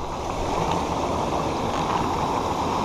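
A waterfall at the bottom of a steep hill, heard up close as a steady, continuous rush of falling and churning water, with no voices.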